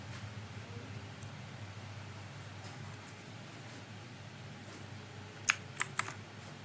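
Quiet clicking of keys as a terminal command is typed on a computer keyboard, a soft run of taps over steady room hiss, ending in a few sharper, louder keystrokes as enter is pressed.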